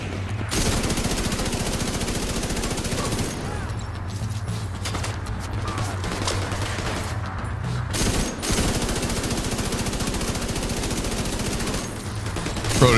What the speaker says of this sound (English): Keep getting urged to reload this gun.